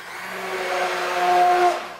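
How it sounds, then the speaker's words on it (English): A blender whirs steadily for about two seconds as it blends milk into a butternut squash soup, a continuous loud motor whine with no talking. "I'm going to get my blender to blend the milk with the soup"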